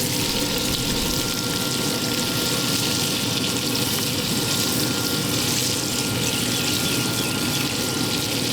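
Scrambled eggs and onions sizzling on the griddle of a Yoder YS640S pellet smoker, a loud, steady crackling hiss that runs unbroken without talking.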